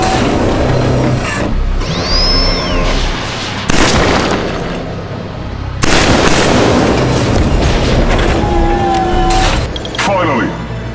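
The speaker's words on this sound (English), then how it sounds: "Try shooting when you peek from cover." Rapid gunfire and heavy booms from Killzone 3 on PlayStation 3 fill the scene as a soldier shoots while peeking from cover, with loud bursts, explosions and battle noise layered over game voices.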